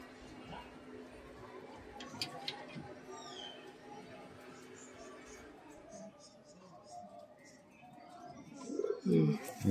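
Pigeons coo and call softly from a pair kept in a loft, with someone talking over them throughout and a few louder rustles near the end.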